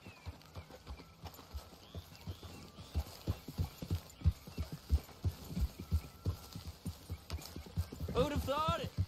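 Horse hooves clip-clop steadily in Red Dead Redemption 2, an even rhythmic trot close by, with a voice speaking over the hoofbeats near the end.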